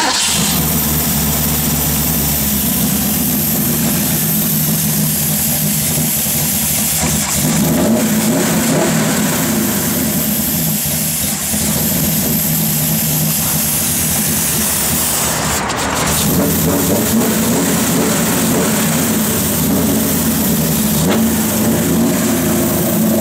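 A 1965 Ford Mustang engine runs loud and close for the whole stretch, a steady rumbling idle with a couple of rises where the revs climb before settling back.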